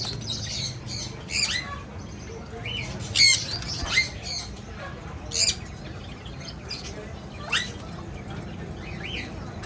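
A breeder pair of ring-necked parakeets gives sharp, scattered squawks and chirps, several separate loud calls over a low room hum.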